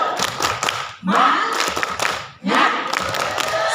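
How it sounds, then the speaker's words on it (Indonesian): Young children at an early-childhood school perform a rhythmic group spirit clap, three bursts of loud, dense clapping mixed with shouting voices, each lasting about a second and separated by brief pauses. "Tepuk semangat semuanya ya."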